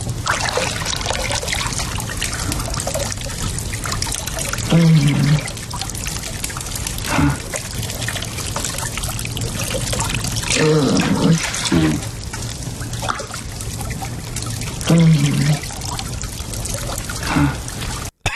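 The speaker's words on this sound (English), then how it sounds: "the scene is Jamie is pouring the water over" Water poured over a person in a TV drama scene, a steady trickling, splashing pour running throughout, with brief muffled vocal sounds breaking in now and then.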